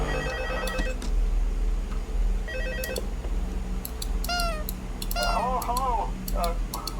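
A telephone rings in Five Nights at Freddy's 2 with repeated electronic trills at a steady rhythm, sounding over a low droning background. A player talks over parts of it.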